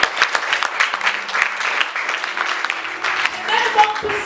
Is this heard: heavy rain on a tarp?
no